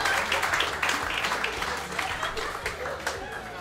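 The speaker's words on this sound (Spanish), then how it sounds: "Ay, aplauden los hijos de puta." Applause from an audience at a Spanish-language comedy talk show, a loose patter of clapping that runs under and around voices talking.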